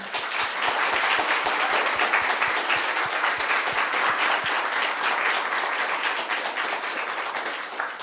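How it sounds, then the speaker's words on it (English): Loud, sustained round of applause from an audience at a student dissertation showcase, dense clapping with a few sharper individual claps standing out early before the sound holds steady throughout. "join me in a round of applause to thank them"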